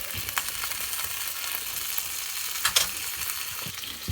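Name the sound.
pasta burning and sizzling in a pan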